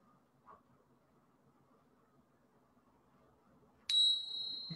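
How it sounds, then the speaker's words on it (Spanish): A single meditation bell struck once, bright and ringing, its tone sustaining and slowly fading against a quiet background. "Este sonido de las campanas no tiene más que una invitación a explorar amablemente"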